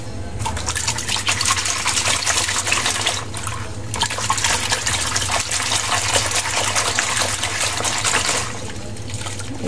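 Homemade washing powder being whisked by hand in a tub of water to build foam, a continuous churning, sloshing water sound with a brief lull partway through, close and steady.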